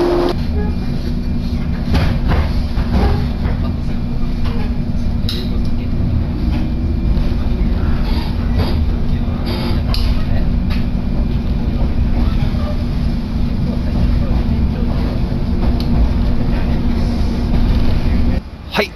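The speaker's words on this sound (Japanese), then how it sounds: "このね、和田岬線にね、乗ろうと思いますね" Riding a Wada Misaki Line train, a steady loud rumble of wheels and carriage fills the space, with rattles, clunks and occasional squeals, and a person talks at times over the noise.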